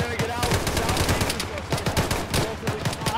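Sustained rapid machine gun fire in an Arma-style military video game, loud and continuous with dense overlapping bursts throughout.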